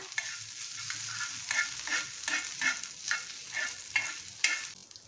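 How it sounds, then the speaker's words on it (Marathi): Plain kolam rice roasting in ghee over low heat for a jaggery rice kheer, stirred in a slow, regular rhythm of scraping strokes above a soft, continuous sizzle. "तुपावरती ना असं मंद ह्याच्यावरती छान असे भाजून घ्यायचे तांदूळ"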